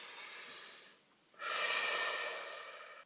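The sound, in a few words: taking a deep breath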